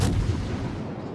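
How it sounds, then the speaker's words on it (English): A naval gun salvo from a warship in a video game, Minotaur cruiser battle: a single heavy boom up front with a short second thump, then a rumbling decay that fades out. "that was pretty good salvo"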